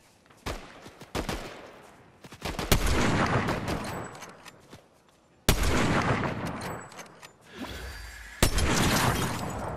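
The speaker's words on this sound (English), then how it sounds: "Oh, gunfire to the west." Gunfire in the Fortnite battle royale video game: repeated sharp, loud shots and bursts with echoing tails, some clustered in rapid volleys, others spaced apart, heard alone without talk.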